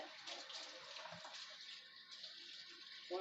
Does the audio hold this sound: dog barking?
no